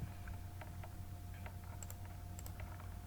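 Faint, scattered keystrokes on a computer keyboard tap lightly against a constant background hum, a few spaced clicks with no talking.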